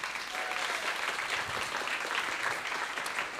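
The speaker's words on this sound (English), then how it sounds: "Give him a round of applause, everyone." A studio audience at a Beat The Frog quiz show applauds a contestant with steady, dense clapping that holds at an even level throughout, with no voices over it.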